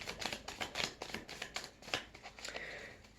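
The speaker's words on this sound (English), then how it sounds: "I think I'm going to shuffle these a bit." Tarot cards are shuffled by hand in a quiet room, a steady run of soft riffling flicks and slaps repeating close by, with no voices.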